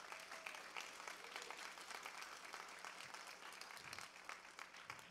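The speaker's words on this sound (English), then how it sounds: "Let's give our award recipients one more round of applause." An audience at a school fifth grade crossover ceremony applauds award recipients, with quiet, distant clapping that stays even throughout, a few sharper individual claps standing out.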